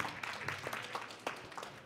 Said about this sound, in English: You can't clap anymore.